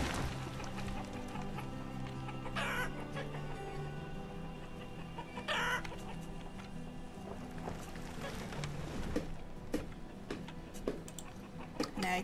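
Chickens cluck and squawk in the Banished village-building game, with repeated bird calls over a busy layer of ambient game sounds and small clicks, with no voice.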